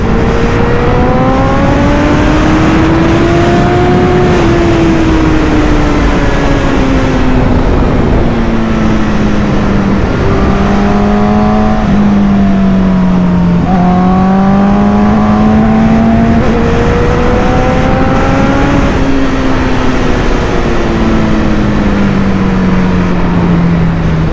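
Honda CBR1000RR sportbike ridden on the road, its engine droning loud and steady from the rider's position, pitch climbing and falling through gear changes and throttle rolls with wind noise throughout and no talk.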